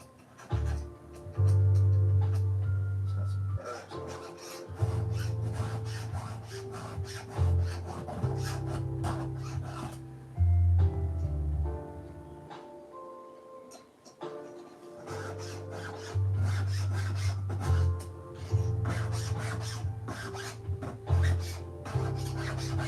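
A round file sharpens a nicked chainsaw chain without a bench vise, with steady rhythmic rasping strokes in repeated runs, close and fairly loud, with brief pauses between passes and no talk.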